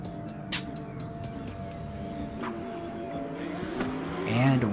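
Two BMW drift cars run on track at a drift championship event, engines droning steadily with rising revs and tire noise toward the end, heard from a moderate distance under a continuous hum.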